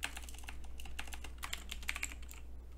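Rapid typing on a computer keyboard during the browser typing game ZType, a dense run of close, crisp key clicks with no talking.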